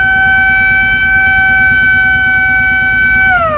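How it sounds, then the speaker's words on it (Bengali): Steady, loud horn-like siren sounding near the Indian border hills at Tanguar Haor, holding constant tones before they bend downward near the end, over a continuous low rumble of a moving engine or boat. "সাইরেন দেওয়া হচ্ছে অ্যাজ লাইক হর্ন"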